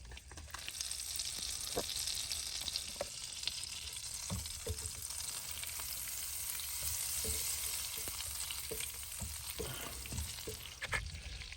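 Two to three tablespoons of fat fry in a pan with a steady, bright hissing sizzle, scattered pops and occasional utensil taps, close and without speech.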